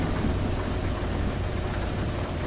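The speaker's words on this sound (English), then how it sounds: "Rain will not want to go away." Heavy rain and rumbling thunder in a truck driving video game form a dense, steady wash of loud downpour with a low rolling rumble underneath.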